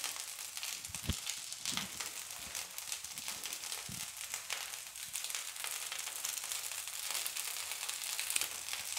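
Poha dosa made from soaked flattened rice batter sizzles steadily on a hot pan, a soft, continuous crackling hiss with a few brief louder ticks, close up and alone with no talking.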